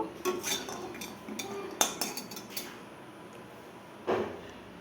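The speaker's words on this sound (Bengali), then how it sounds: "দেখো বাদামগুলো একটু ভেজে নিব।" Nuts stirred in a frying pan for homemade cereal powder, with light scraping and clinking of a utensil against the pan in a few soft, scattered bursts, fairly quiet and close.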